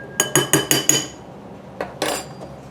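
Ground spices, including garlic powder, are stirred together in a bowl, with a quick series of about five bright clinking taps of a utensil against the bowl, a pause, and then a few more clinks.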